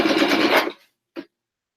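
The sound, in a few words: sewing machine stitching through layers of rein cover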